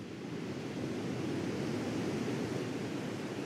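Steady ocean surf washing onto the beach right by a house on Beach Avenue, a continuous loud broadband rush with no distinct breaks and no voices.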